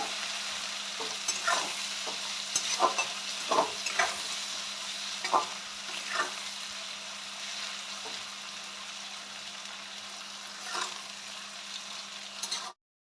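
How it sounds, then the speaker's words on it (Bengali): Onions frying in a pan for chicken kasha, a steady sizzle under a low constant hum, with a run of scraping stirs in the first half and a few more toward the end. "পেঁয়াজটা একটু লাল লাল করে ভেজে দেবো"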